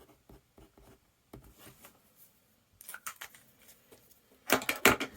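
Kanwrite Indian flex nib fountain pen writing a word on paper, faint scratchy strokes in short bursts, quiet at first and then a few louder scrapes near the end, with no talking.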